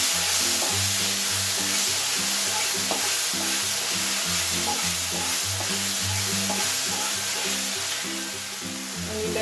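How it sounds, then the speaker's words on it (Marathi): Vegetables stir-fry with Schezwan chutney for Hakka noodles in a loud, continuous sizzle, and a spatula scrapes the pan in a steady repeating rhythm the whole time. "आणि शेजवान चटणी छान असं आपल्याला मिक्स करून घ्यायचं आहे."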